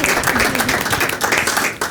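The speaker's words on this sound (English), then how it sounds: "How about a round of applause?" Audience applause at a senior wellness talk on caregiving, a short burst of loud, close clapping that holds steady and then cuts off.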